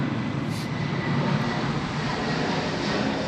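A DHL aircraft at Sydney Airport produces a continuous broad engine roar, moderately distant and fairly loud, swelling slightly as it passes, with no voices.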